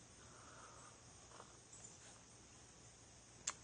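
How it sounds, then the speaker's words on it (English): Crickets make a faint, steady high buzz in quiet woods in the morning. The thin continuous trill sounds distant, with a small click near the end and no speech. "we have just this little buzz of crickets or something this morning"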